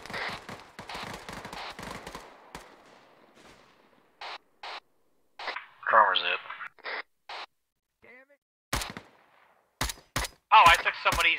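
Gunfire in a military video game, sharp single shots and short bursts at scattered intervals between stretches of talk, fairly close and loud.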